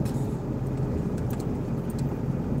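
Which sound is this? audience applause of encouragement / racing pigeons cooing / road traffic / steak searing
road traffic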